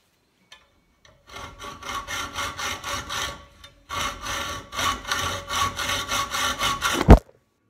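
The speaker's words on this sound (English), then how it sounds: "I'm going to cut this off by hand" A 4G63 throttle body elbow clamped in a vise is cut with a hand saw, producing close, loud rhythmic back-and-forth rasping strokes in two runs separated by a short pause, ending with a sharp knock.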